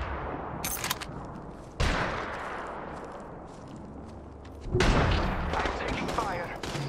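Bursts of rapid automatic gunfire in the Apex Legends video game, loud and close in two main volleys with quieter shots between, while a voice talks over the action.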